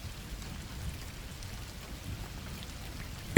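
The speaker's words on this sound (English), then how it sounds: "Gusts of rain pounded furiously on the windows of the house where I was" Rain pounds on the windows of a house during a stormy night, a steady dense hiss and patter with a low rumbling undertone, moderately loud and continuous, with no voices.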